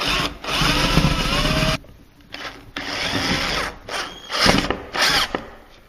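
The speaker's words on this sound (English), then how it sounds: "use a drill bit to make just an indentation to get the screw going" Power drill whirring in several bursts as screws bite into wood while hanging shelves on drywall, loud and close, with brief pauses between runs.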